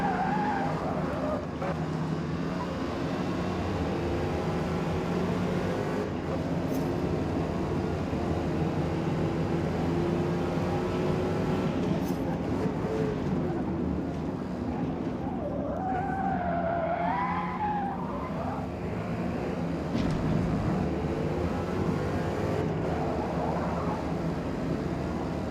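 Engine roar of an iconic muscle car lapping a track in Forza Motorsport, continuous and close, with tires squealing through corners and a voice talking intermittently over it.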